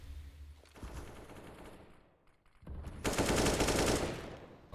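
Pistol fire in a Counter-Strike match on the map Cache, with rapid overlapping shots building to a loud, dense exchange of gunfire, heard without commentary.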